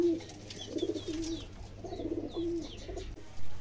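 Fancy pigeons in a cage coo in low, rolling phrases close by, repeating every second or so, with faint chirps and rustling in the background.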